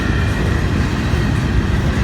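Steady, loud rumble of a moving train heard from aboard its trailing engine, dense low-end roar with a continuous rolling clatter and no talk.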